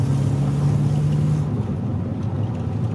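Worn barn-find Austin Maestro with no working brakes running in fourth gear at about 30 mph, a steady low engine drone with a humming tone that fades slightly as it cruises.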